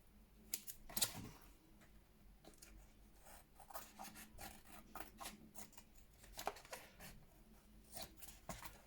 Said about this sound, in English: let's trim off any extra that we've got